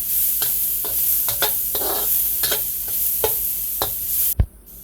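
Garlic and ginger sauté in a hot pan with a bright, close sizzle broken by repeated spatula scrapes and stirs. A sharp knock sounds near the end, then the sizzle drops away.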